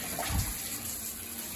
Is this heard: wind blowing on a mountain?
no